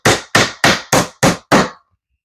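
Six evenly spaced, sharp hammer blows driving finishing screws into wood, loud and close, with no talking.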